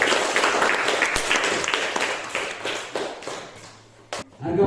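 Classroom applause for students who have just finished presenting, a dense, steady patter of many hands clapping that carries on for several seconds before fading.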